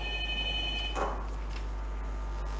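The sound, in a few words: telephone ringing with incoming viewer call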